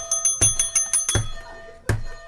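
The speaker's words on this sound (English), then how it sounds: "I've broken the bell. I was that excited." A bicycle-style bell rung vigorously in quick repeated dings, then two more separate strikes, bright and close, during an India versus Pakistan T20 World Cup cricket watchalong, with no talking.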